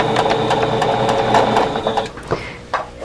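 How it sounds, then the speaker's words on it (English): A sewing machine stitching a seam on a quilt block, its steady rapid mechanical whir running continuously up close, then slowing and stopping in a few uneven bursts. "let's sew this and see how it comes out"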